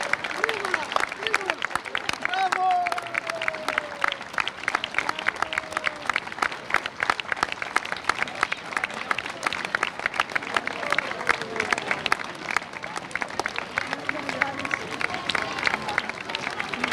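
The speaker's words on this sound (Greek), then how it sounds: "Ένα δυνατό χειροκρότημα για τα παιδιά." A crowd in a town square gives sustained, dense applause for children, steady clapping that runs the whole stretch while voices call out over it.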